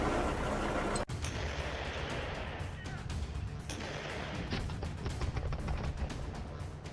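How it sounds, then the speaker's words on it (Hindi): Russian artillery cannons firing during military exercises near the Ukraine border: a sharp heavy blast early, then a continuous rumbling roar of distant fire and rolling booms, with a voice talking over it. "रूसी तोपें युद्धाभ्यास कर रही हैं, युद्ध का ऐलान कर रही हैं।"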